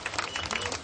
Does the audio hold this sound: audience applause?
yes